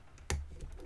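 A single sharp, close click as a pick sets a pin in a Draper Expert 8311/46 padlock, followed by faint scraping of metal tools on the lock, with no voices.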